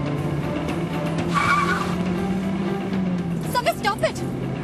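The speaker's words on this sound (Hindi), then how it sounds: "गाड़ी इतनी तेज क्यों चला रहे हो?" A car is driven very fast with tires squealing and skidding over a steady engine roar, while people speak urgently over it and a voice cries out near the end.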